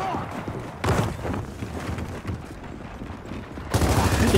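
Gunfire in Gears of War 4 online multiplayer on the Old Town map, loud bursts of rapid automatic shots that start sharply, keep going with a dense rattle and surge again at the end.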